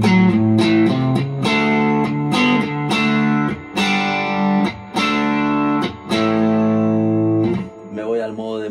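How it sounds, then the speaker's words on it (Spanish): Electric guitar through a Pedalcluster Jaminabox pedal in clean mode with a little fuzz, playing loud, steady sustained chords and riffs with short breaks, up close. "Estoy en el modo limpio con un poquito de fuzz."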